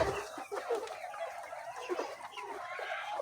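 Chickens on a poultry farm cluck and chatter continuously, several birds overlapping close by in a busy, steady murmur of fowl calls.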